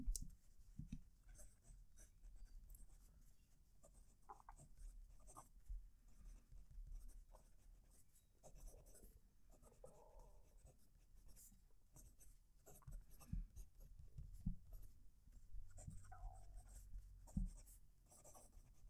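Fountain pen nib scratching across paper, close and quiet, a steady run of soft strokes and scrapes with small clicks, alone without talk.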